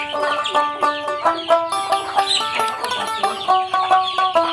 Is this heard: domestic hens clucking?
yes